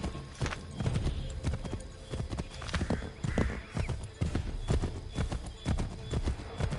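Steady, rapid hoofbeats of a horse trotting in Assassin's Creed 3, loud and close, the clip-clop pattern running continuously with a faint whinny mixed in.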